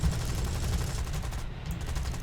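Aircraft cannons fire in a War Thunder air battle, a loud continuous rapid burst of gunfire with dense rumbling noise that runs unbroken with almost no pause.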